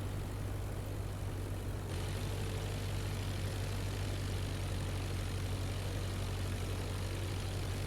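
Steady propeller aircraft engine drone in the IL-2 Flying Circus flight game during a crosswind landing with a sideslip approach, a constant loud hum with a low rumble, unchanging throughout with no voices.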